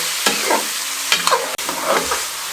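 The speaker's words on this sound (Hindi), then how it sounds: "ऑयल में लहसुन अदरक के पेस्ट के साथ अच्छे तरीके से हमने इसको फ्राई कर लिया।" Meat for Peshawari namkeen gosht fries in oil with garlic ginger paste over high flame, giving a loud, continuous sizzle broken by scraping stirs and a sharp clack of the utensil.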